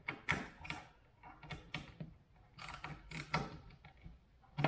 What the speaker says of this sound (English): Now this is why I like this little ratchet thing